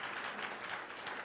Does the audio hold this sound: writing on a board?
no